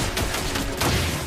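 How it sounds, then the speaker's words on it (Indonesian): Rapid bursts of gunfire from the hero Granger in the mobile game Mobile Legends, loud and dense over a busy game mix. "Dan ternyata kali ini dengan memakai Granger mencoba memberikan beberapa tembakan awal."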